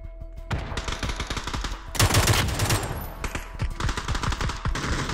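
Bursts of automatic gunfire in the video game PUBG: Battlegrounds, loud rapid shots in several runs separated by brief gaps, one heavier burst near the middle.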